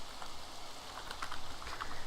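Rain falls in Minecraft as a faint, steady patter of droplets with light hissing texture, soft and continuous with no voices.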